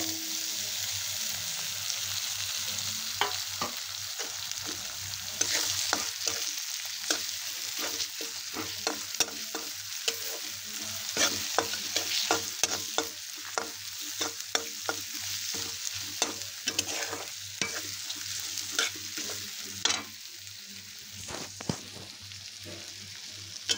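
Spices such as chilli, turmeric, coriander powder and kala masala fry with chopped tomatoes in a pan for soya keema, a low steady sizzle broken by frequent spoon clinks and scraping as the mixture is stirred; no speech.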